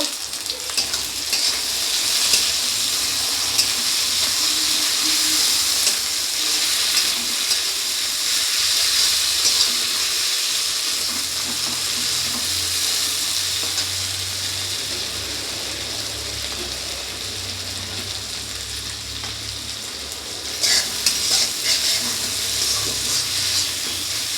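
Chopped tomatoes go into hot oil with ground chili paste for an egg curry, a loud continuous sizzle and hiss with stirring scrapes that swells again near the end, no talking.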